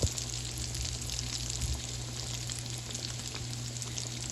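Vegan chicken strips fry in a pot of oil, giving a loud, continuous, even sizzle and crackle from start to finish, with no voices.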